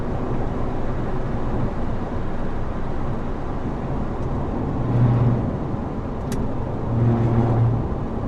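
Trucks rumble past close by at night in a continuous low drone, with swelling passes near the middle and the end and a faint high ping in between, with no voices.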